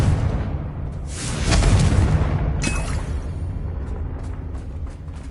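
A Confringo fire spell explodes in the Hogwarts Legacy video game, a loud rumbling blast with a second burst layered over dense battle noise, sustained and close.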